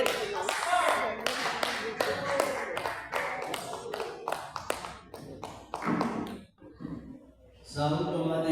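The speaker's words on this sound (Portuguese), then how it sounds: "as palmas para o rei da glória" A church congregation claps in quick, fairly steady beats, heard fairly faintly under singing or speech, until the claps break off near the end.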